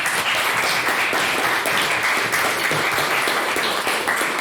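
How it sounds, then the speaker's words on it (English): Sustained applause from an audience at an evening debate on government climate policy, thick, even clapping from many hands, loud and close, with no pause throughout. "we have another round of applause for all of our speakers tonight"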